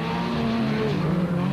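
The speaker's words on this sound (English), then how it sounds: "Cassie Coetzee had no option but to push the aging Castrol Hilux as hard as possible." An aging Castrol Toyota Hilux race truck is pushed hard in a 1997 Super Series race, its engine roaring loud and sustained at high revs with a slight pitch sweep, close and continuous.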